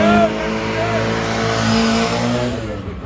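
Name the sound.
race car launching off the line at Motofest Coventry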